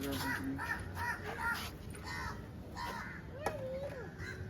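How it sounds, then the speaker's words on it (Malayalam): Repeated harsh crow caws in short bursts as crows eat food set out for them, with a voice briefly heard and steady outdoor background noise. "കാക്ക കാക്ക കഴിക്കുന്നു"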